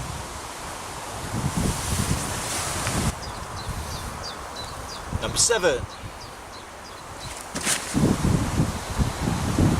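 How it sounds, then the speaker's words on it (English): Gusty wind at a fishery rustles and roars in bursts around a nearby voice, with birds chirping faintly in the background. "As you might be able to hear, it's a bit windy and blustery"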